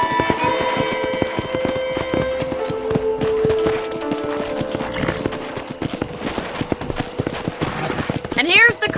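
Horse hooves in a video game clip-clop in a quick, steady rhythm throughout while a person talks over them, with a horse's whinny near the end.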